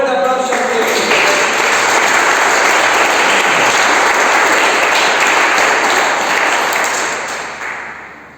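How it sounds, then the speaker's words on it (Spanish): A church congregation breaks into loud, sustained applause for Christ during a sermon, the dense clapping holding steady for several seconds before tapering off at the end. "De un fuerte aplauso a Cristo"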